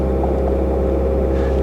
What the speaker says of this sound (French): ça y est, j'ai démarré le moteur